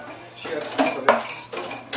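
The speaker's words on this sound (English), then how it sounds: "while I'm mixing this" Utensils scrape and clink against a bowl while ingredients are mixed, with a few irregular taps and clatters close by.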